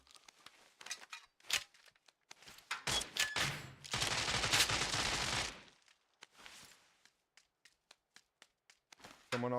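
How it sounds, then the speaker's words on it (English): Scattered gunshots in a PUBG match, sharp isolated cracks and short bursts spread through the clip, with a louder, denser stretch of fire in the middle and quieter single shots toward the end. "Someone already shooting over there while I'm in the wall."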